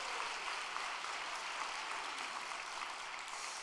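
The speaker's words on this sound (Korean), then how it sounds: "귀한 깨달음을 주신 참부모님께 우리 감사의 박수를 올려드리겠습니다" Applause from a church congregation, a soft, steady patter of many hands clapping heard from a distance, with no voices over it.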